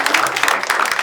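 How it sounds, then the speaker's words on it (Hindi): Brief burst of audience applause at a live comedy show taping, dense clapping from a crowd, loud and close. "एक बार जोरदार तालियां आप लोगों के लिए for being such an amazing audience"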